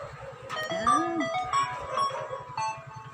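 A Cherry Mobile Alpha tablet plays a short melodic startup chime when switched on, a faint electronic tune over a soft rhythmic background hum with a voice nearby.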